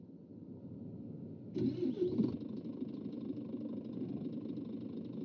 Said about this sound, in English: Let's get the engine started.